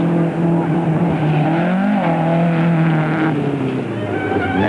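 Jeff Portman's number 19 rally car roars close and loud on a rally stage, its engine note rising and falling with brief tyre squeal as it charges through the section.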